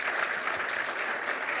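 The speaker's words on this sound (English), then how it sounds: "Everyone give an applause." An audience at a developer and product manager meet-up claps together in a dense, steady burst of applause, loud and continuous with no talking over it.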